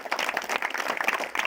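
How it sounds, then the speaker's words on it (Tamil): A church crowd at a Tamil Catholic feast Mass gives a brief burst of fairly quiet, scattered clapping. "வெரி குட், எல்லாம் கைதட்டுங்க"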